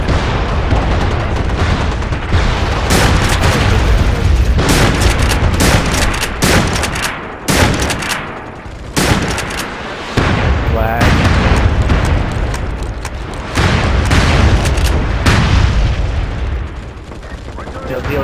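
Heavy booms and rapid gunfire from an airstrike in the online shooter game MAG roll through a loud, chaotic battle, with dense bursts and repeated explosions and a voice talking over the din.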